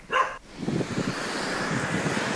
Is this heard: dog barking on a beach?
yes